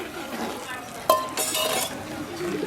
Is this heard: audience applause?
no